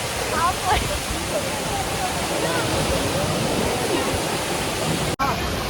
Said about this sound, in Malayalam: ക്ലീനെ ആൻഡ് നീറ്റ് ആയിട്ടുള്ള ഒരു വാട്ടർഫോളാണ് കിട്ടിയത്